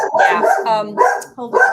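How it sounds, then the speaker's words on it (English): Dogs barking excitedly over a home video call, yelping, harmonic barks and whines up close and fairly loud, mixed with a man's brief speech. "Your dogs are setting off my dogs."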